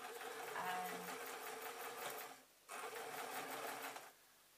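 A sewing machine runs in two steady bursts while stitching ruffled gathers, a fast even mechanical whir up close with a brief pause between runs, and no talking.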